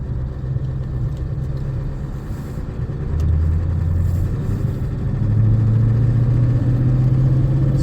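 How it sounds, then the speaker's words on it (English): A pickup truck with a 4-inch exhaust system idles steadily, its deep low rumble growing louder in two steps as the engine warms, with no talking over it. "I had a lot of people ask how I like the exhaust system, what it sounds like"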